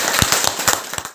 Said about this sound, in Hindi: अगर हो सकता है एक बार जोरदार ताली हो जाए